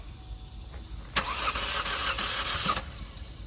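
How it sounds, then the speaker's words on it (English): A car starter cranks at a police towing auction, the engine trying to catch: a quiet idle-like rumble, then a loud burst of grinding cranking for about a second and a half before it drops back down. "Got a starter that's trying to engage."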